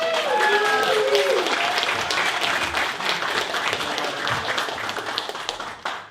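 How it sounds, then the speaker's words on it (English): An audience at a magic show applauds a volunteer called up on stage, a burst of clapping that swells early and slowly fades, with a voice briefly heard over the start. "give her a big round of applause."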